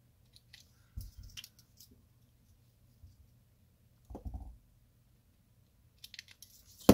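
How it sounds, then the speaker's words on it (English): Scissors cut through masking tape for a Casio World Time watch strap mod, giving a few quiet, close snips and crinkles separated by near-silence. "And then you will take some scissors, go ahead and cut that out."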